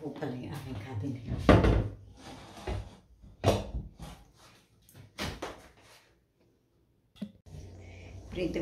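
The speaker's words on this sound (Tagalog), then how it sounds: "Bukas pa po pala yung aking cabinet." A kitchen cabinet door knocks and thuds several times in a home kitchen while chicken wings are being fried, mixed with soft household noise and a nearby voice.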